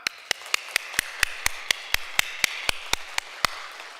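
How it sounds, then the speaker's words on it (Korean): Rhythmic, evenly spaced claps, about four per second, ring out crisply in a church during a retirement thanksgiving service, each sharp hit standing alone against a quiet room with no talking. "박수를 치는데 아주 존경하고 사랑합니다 하는 그런 마음으로 한번 박수를 드리면 좋겠습니다"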